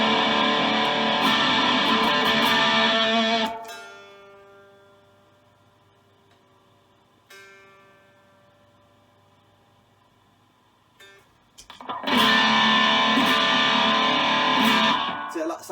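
A loud, gritty electric guitar through an MXR Dime Distortion pedal plays chords, lets them ring out and fade into near quiet, then crashes back in heavily at the end.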